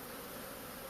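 A honeybee swarm buzzes in a continuous, dense drone, a steady hum of many wings filling the whole moment with no voices.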